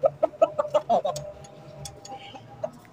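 Aseel chickens and a rooster cluck in a rapid series of short, fairly close calls at the start, trailing off into quieter scattered clucks against a low background hum.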